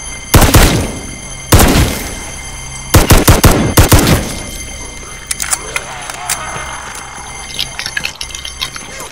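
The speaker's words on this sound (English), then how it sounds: "I can start shooting you over there." Gunfire in a zombies video game: loud sharp shots, first two single blasts and then a quick rapid burst, followed by fainter scattered pops and clicks.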